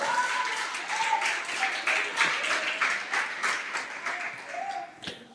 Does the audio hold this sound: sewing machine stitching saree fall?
no